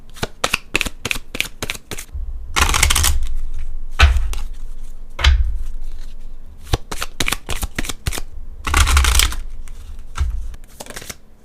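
Tarot cards are shuffled by hand in quick repeated bursts of riffling and sliding, close up and crisp, with brief pauses and soft thumps as the deck is squared between rounds; no one speaks.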